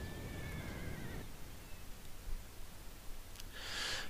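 Cavalry horses neigh in Empire: Total War, with a whinny early and a brief high burst near the end over a steady low rumble of battle ambience.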